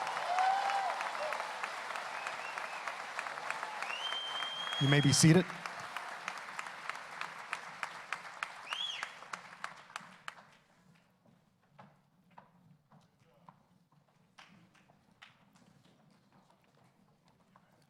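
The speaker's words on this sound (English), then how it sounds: "Please give them one more round of applause" An audience at a 2019 graduation ceremony gives a long round of applause that holds strong for about ten seconds, then thins to scattered claps as a voice speaks briefly over a public address.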